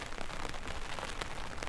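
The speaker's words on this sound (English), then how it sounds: "We only had one day of rain" Steady rain falls on the Isle of Mull, a dense, even hiss of drops patters across surfaces with scattered closer splats, continuous and moderately loud with no voices.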